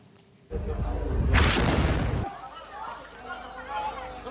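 A deep, heavy explosion in a residential area of Gaza City booms and rumbles for nearly two seconds, followed by a lingering low roar of noise and debris.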